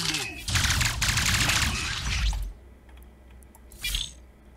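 A short, dense burst of gunshots in the video game Deployment rattles loudly for about two seconds, followed by quieter game sounds and a brief later thump.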